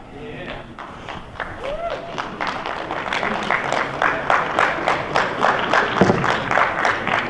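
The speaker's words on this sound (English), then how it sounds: "Good job on the applause." An audience at a military base keynote claps in sustained, rhythmic applause that builds and grows louder, with some talking at the start.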